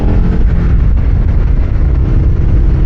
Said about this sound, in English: Let's listen to that motor.